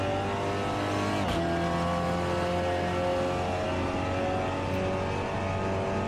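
Seat Leon TCR race car in Assetto Corsa, with a steady, loud engine drone and harmonic whine that shifts pitch as the car accelerates and changes gear, plus a sharp drop around one second, with no voices.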